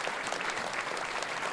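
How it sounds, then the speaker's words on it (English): A crowd at an evening MS center health program claps for sponsors, a dense, even round of applause lasting the whole short stretch at moderate volume. "Let's give them a round of applause."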